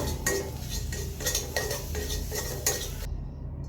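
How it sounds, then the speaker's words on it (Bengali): A utensil stirs and breaks beaten eggs into small pieces in hot oil in a wok. It scrapes and clinks in a steady, repeated rhythm of close metallic strikes, and a faint sizzle sits underneath. "এটিকে আমি নাড়াচাড়া করে ছোট ছোট টুকরা করে নিব"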